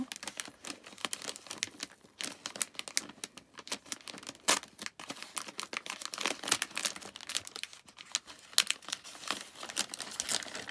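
Crinkly paper and plastic wrapping is crumpled and torn as a swap parcel item is opened, close-up in irregular bursts of rustling and tearing.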